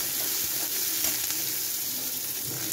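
Onion and garlic sautéing in a pan for egg masala, a steady close sizzle with soft stirring scrapes running continuously, no one talking.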